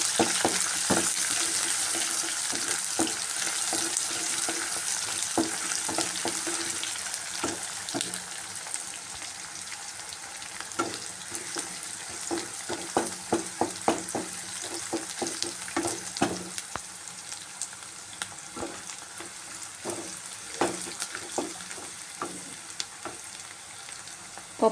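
Onions and curry leaves frying in a pan, a loud, steady hiss and sizzle with intermittent stirring clicks and scrapes, no voices over it.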